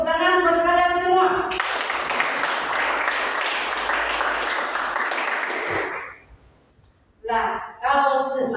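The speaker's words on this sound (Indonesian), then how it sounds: "Tepuk tangan buat kalian semua." Students in a classroom break into a burst of applause lasting about four seconds, with a teacher's voice heard before and after it.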